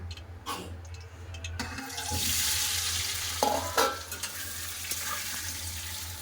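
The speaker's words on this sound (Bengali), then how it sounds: "তেল গরম হয়ে গেছে আলু ভেজে নেব" Potatoes are tipped into hot oil and fry, opening with a few clatters before a sudden loud hiss that settles into steady, bubbling sizzling with occasional bumps from the pan.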